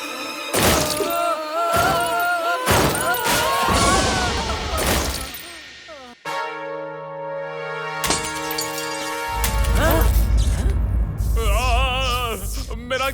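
A cartoon gadget breaks apart with sharp shattering crashes and clinks amid animated action, followed by musical stings and character voices.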